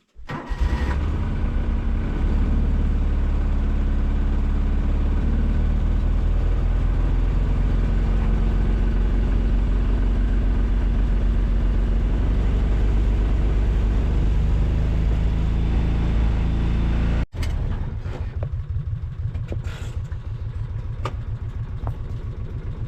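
An off-grid machine's engine starts in winter cold and settles into a loud, steady idle that runs close by for about sixteen seconds before cutting out, followed by a few clunks.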